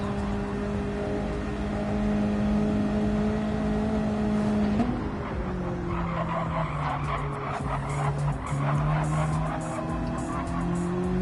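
A Mazda MX5 race car in a racing game at the Eiger Nordwand circuit, heard onboard as it slides mid-corner: a loud, steady engine drone shifts pitch partway through, with tire scrubbing under it.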